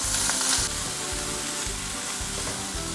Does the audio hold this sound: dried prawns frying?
yes